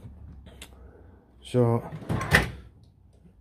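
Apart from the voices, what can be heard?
tool chest drawer sliding and not seating right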